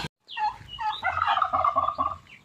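Turkeys on a farm gobble loudly and close by, rapid rattling bursts repeating for about two seconds after a brief opening call, with no talking.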